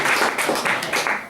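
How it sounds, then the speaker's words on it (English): Brief burst of audience clapping at a county town hall meeting, steady and fairly loud, with no talk over it. "You guys can clap too, that's all right."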